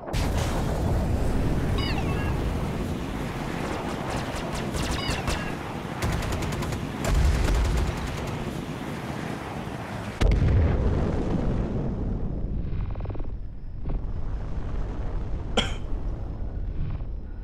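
Gunfire and explosions in the space game Star Citizen, with Cutlass ships in a fight: repeated bursts of rapid firing and heavy booming impacts, loud and close, with a sharp cut partway through and quieter blasts after.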